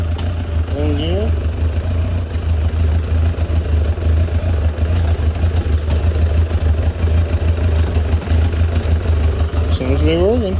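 A 1998 Suzuki GSX750F Katana motorcycle idles in gear after a clutch replacement, a close, steady low rumble that runs throughout under a man's speech.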